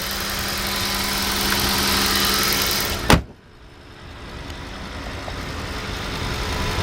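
A 2008 Audi S8 with its V10 engine fires up with a sharp burst, settling into a steady, close, smooth idle hum after a short dip.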